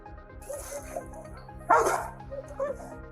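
A police dog barking during a search of a house crawl space, a few short barks and yips amid background noise, one louder bark near the middle.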